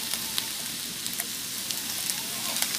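Fish sauce sizzles and crackles on the hot edge of a wok while sausage fried rice is stir-fried, a steady close frying hiss with small pops throughout.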